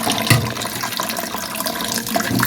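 Tap water runs and splashes steadily as shrimp are washed in a kitchen, a continuous close gush with small clatters mixed in.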